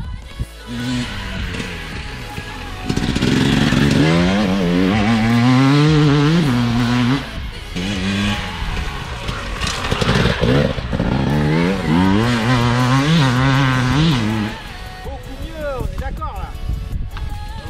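A motorcycle engine revs and climbs through gears on a race track, rising and falling in pitch, with a voice talking over it throughout.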